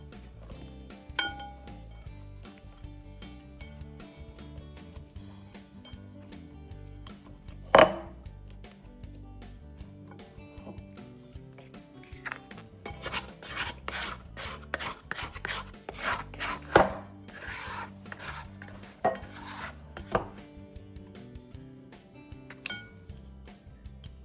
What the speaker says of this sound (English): The reason why I'm still mixing a little bit, I feel flour that wasn't mixed up in there.